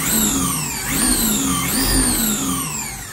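An electric motor in a replica remote-control Formula 1 car revs up and down on throttle in a couple of rising and falling whines over a steady drivetrain buzz, with no talking.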